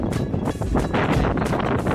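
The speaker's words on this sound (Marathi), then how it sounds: "जोरात वारा चालू आहे आणि सुसाटचा पाऊस" Strong wind roars and buffets steadily throughout during monsoon rain on the Rajgad trek, a loud, continuous rush with no pauses and no voices.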